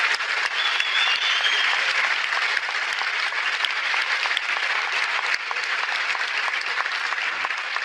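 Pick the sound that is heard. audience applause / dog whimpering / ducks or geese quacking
audience applause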